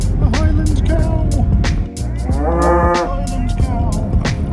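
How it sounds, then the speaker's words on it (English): A Highland cow gives a long, loud, close moo outdoors in the Glencoe mountains of Scotland, with wind noise and a vehicle-like rumble around it. "The Highland cow."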